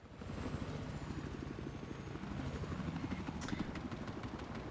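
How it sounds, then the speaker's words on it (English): A helicopter in the video game Battlefield 4 gives a steady, rapid rotor chop with engine whine, continuous and fairly close through a Conquest match. "people flying in the helicopter just being really cautious above the D flag"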